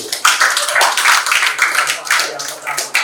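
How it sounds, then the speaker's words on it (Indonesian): A burst of hand clapping from a classroom group, steady and fairly loud, with a faint voice underneath. "tepuk tangan buat Andrew"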